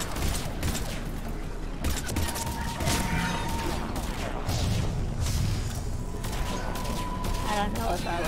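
Gunfire from the sci-fi shooter Mass Effect 3 fills a chaotic battle, rapid repeated shots and bursts over rumbling effects, with a voice talking over the action.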